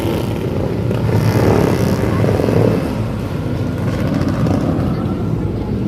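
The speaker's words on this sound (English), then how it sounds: "Motorcycle and ATVs passing by." Motorcycles and ATVs pass along a busy New York City street near Greeley Square, a loud rumbling engine roar that swells and fades amid dense traffic noise.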